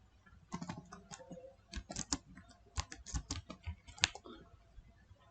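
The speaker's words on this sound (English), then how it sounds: "So open any web browser and type Google My Way." Typing on a computer keyboard into a web browser: a quick irregular run of crisp key clicks, close and fairly quiet, with no voice.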